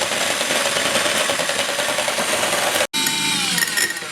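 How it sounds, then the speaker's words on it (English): Electric whisk running on high through a chocolate salted rye cookie mixture, a steady loud motor whir with a brief cut-out near the end before it resumes, no talking. "And then I'm just going to whisk this for 6 minutes on high"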